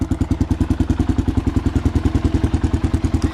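A 1990 Kawasaki KLR 650 dual-sport motorcycle engine runs close by with a rapid, even chugging pulse, revving steadily and loudly throughout.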